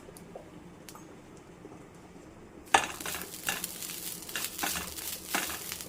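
Thinly sliced shallots being stirred in a pan over medium flame, near-quiet at first, then a sudden clatter and lively sizzling with scraping stirs and rustles that continue to the end, no talking.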